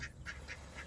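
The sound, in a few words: Swedish blue ducks quacking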